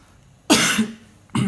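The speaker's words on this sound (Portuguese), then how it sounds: "desculpa aí pela tosse" A single harsh cough, then a short second cough a moment later, close to the microphone.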